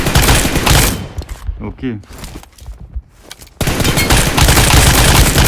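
Rapid automatic gunfire in the video game PUBG, fired from a crouched position, comes in loud dense bursts at the start and end with a quieter gap in between, while someone talks over it.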